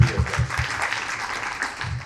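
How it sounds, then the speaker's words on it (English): Applause from an audience, a dense patter of claps with some low thumps mixed in, moderately loud and steady over a couple of seconds. "So please give a big round of applause to Sanjeev"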